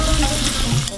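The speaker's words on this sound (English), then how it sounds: "Now I'm going to add the fish and the green onion," Fish and green onion hitting a hot pan for cod dopiyaza, a loud, steady sizzle and frying hiss filling the whole moment, close and continuous with no talking.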